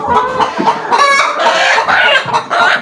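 Chickens on a chicken farm in a city cluck loudly and continuously close by, with overlapping calls and a few sharper squawks and no talking.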